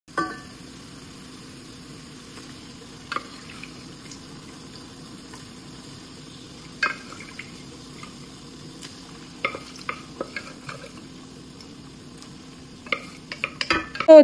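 Chicken pieces go into a hot pan of tamarind curry base in small batches, giving a quiet sizzle broken by repeated clinks and scrapes of stirring, with louder clatter at the end.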